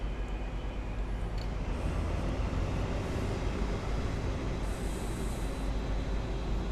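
Steady rolling rumble of a train under way in Train Simulator 18, a continuous low drone of wheels and motor with faint higher hiss, even and moderately quiet throughout with no talking.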